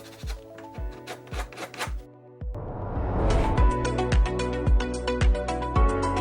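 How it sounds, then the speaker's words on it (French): Hand file rasping the freshly sawn end of a swinging screen door's frame profile, a steady series of short scraping strokes, close and fairly loud, with no talking. "Et limez également si nécessaire."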